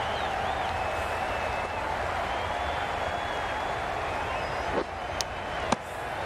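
A stadium crowd in the Cricket 22 video game applauds in a steady, sustained roar of clapping and cheering that fills the whole stretch, with a few sharp clicks near the end.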